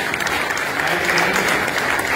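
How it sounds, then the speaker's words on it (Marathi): Audience clapping at a state-level Maharashtra award ceremony, a steady, dense wash of many hands applauding close and loud throughout, with faint crowd noise underneath. "टाळ्यांचा आवाज"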